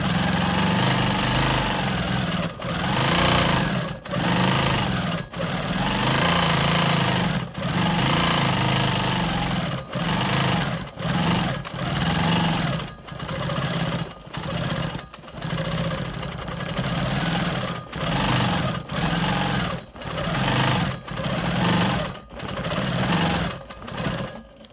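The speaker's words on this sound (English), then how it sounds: "I need to finish stitching in the ditch right here between these two fabrics and start my smoky swirl here." A sewing machine stitching in the ditch and free-motion quilting a card trick quilt block, running steadily in repeated bursts of rapid stitching separated by short pauses.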